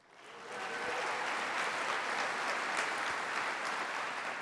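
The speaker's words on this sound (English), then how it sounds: "let's also give a well-deserved round of applause to all the volunteers who have been helping throughout the day" An awards-ceremony audience breaks into applause for the event volunteers, the clapping swelling in quickly and then holding as a dense, sustained ovation from a large crowd.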